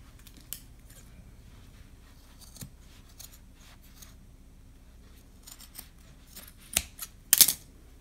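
Scissors trimming excess upholstery fabric from the edges of a restored dining chair seat: quiet intermittent snips, ending in a couple of louder close cuts near the end, with no talk.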